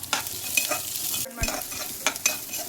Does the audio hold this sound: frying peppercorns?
yes